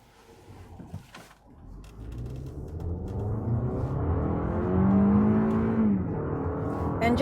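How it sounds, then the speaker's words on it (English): Engine of a 2024 Toyota RAV4 Adventure accelerating hard from inside the cabin, rising from a quiet start into a loud droning pull with a climbing tone that peaks and then levels off. "Engine is pretty loud."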